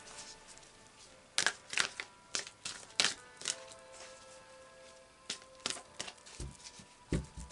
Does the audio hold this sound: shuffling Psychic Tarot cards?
yes